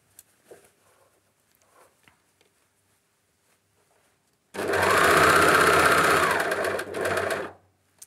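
A sewing machine stitches a cuff onto children's harem trousers, running loud and steady for about three seconds near the end with a brief dip. Before it there is near silence with only faint rustles and handling noises.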